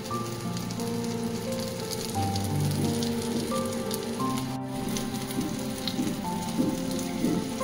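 Chopped ginger, garlic and green chilli dropped into hot oil with softened onions crackle in a steady, rain-like sizzle, close and moderate in level, with sustained musical tones running underneath and no speech.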